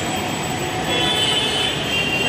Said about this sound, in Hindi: पचपुनिया मेट्रो स्टेशन